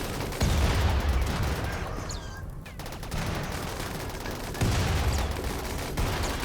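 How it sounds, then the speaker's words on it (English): Frag grenade explosions and gunfire crackle through a RimWorld firefight, a dense run of sharp bursts and booms that rise and fall in intensity at moderate loudness. "We got a frag grenade right in the middle"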